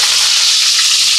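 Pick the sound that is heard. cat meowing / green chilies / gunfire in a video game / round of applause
green chilies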